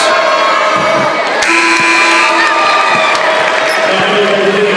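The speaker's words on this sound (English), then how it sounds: "Great crowd on hand" Home crowd at a 2012 SCHSL Class 3A girls basketball state championship, a broad steady roar of cheering and shouting filling the gym, with a ball bouncing now and then beneath it.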